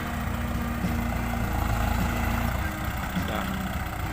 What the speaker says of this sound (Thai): รถไถหันถอยไปถอยมานี่ค่อนข้างที่จะลำบากนะครับ